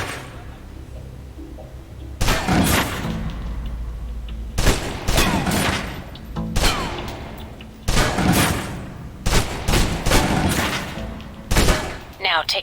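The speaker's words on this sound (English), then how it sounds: "Now, let's move on to the submachine gun. Now let's empty the clip." Submachine gun emptying a full clip at a target range in Alpha Protocol, loud rapid bursts of gunfire in several separate strings with brief pauses between, close and dominant over background ambience.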